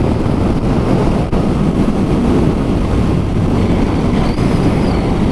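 A Yamaha MT-09 motorcycle in A2-restricted form accelerates, its engine buried under a loud, steady rush of wind noise that lasts the whole stretch with no speech.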